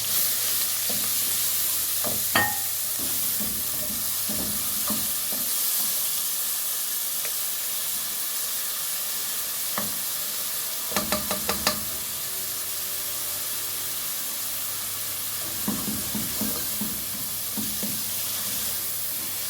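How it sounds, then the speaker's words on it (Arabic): Grated onion sizzling and hissing in oil in a pan while being stirred, a steady frying hiss with occasional scraping and clinking of a utensil. "طبعا انا بشر البصل، هنزل بيه كده واشوح فيه لغايه ما يعني يديني لون اصفر اهو"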